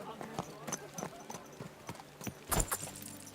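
Horse hooves clip-clopping in the medieval video game Kingdom Come: Deliverance II, a steady rhythmic clatter of steps heard close up, with a louder burst partway through and a voice talking over it.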